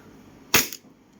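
A WE Glock 18C airsoft pistol fires a single shot, a sharp, close crack that ends quickly in an otherwise quiet setting.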